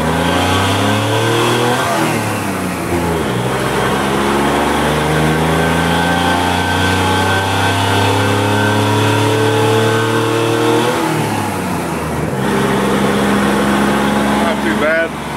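A worn 1966 Chevy truck with a 292 engine revs hard while driving, its loud engine note climbing repeatedly through rising pitch sweeps, dropping back at gear shifts and climbing again, close and continuous throughout.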